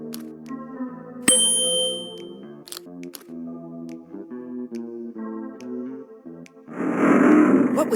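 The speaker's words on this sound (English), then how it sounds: "The opening mechanism seems to have activated with the sound of the instrument." Tonal chimes ring out in a measured melodic sequence as a video game instrument plays to open a hidden wall mechanism, followed by a louder burst of grinding noise near the end.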